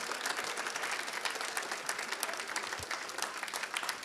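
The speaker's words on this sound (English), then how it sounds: "give yourselves a round of applause" Steady, dense applause from a concert audience at a middle school spring orchestra and chorus concert, many hands clapping evenly throughout at moderate loudness.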